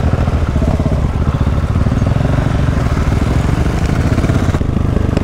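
A KTM SMC R supermoto engine running loud and close, with a rapid, steady single-cylinder thump and mechanical clatter, holding an even idle throughout.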